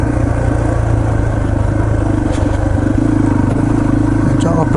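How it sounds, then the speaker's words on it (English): Yamaha TTR 230 trail motorcycle engine braking in low gear down a trail, a steady close mechanical drone with light clatter and occasional ticks throughout. "put it in low gear and let it freewheel down. Using motor braking"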